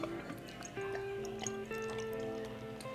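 Beer, a Boom imperial IPA from Renaissance Brewing Co., poured into a glass: a soft trickling fill with a rising gurgle, quiet and close, with no talk over it.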